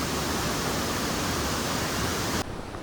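Rain begins falling outdoors in the hills of Uttarakhand, a dense steady hiss that holds evenly and then drops off sharply near the end, with no voices.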